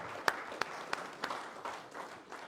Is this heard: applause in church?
yes